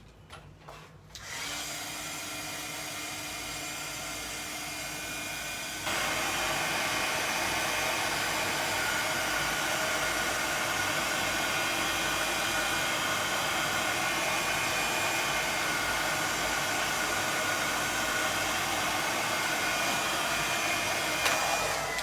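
A heat tool warms embossing powder with a loud, steady blowing whir that clicks on, briefly stops, then runs continuously at a stronger level for a long stretch.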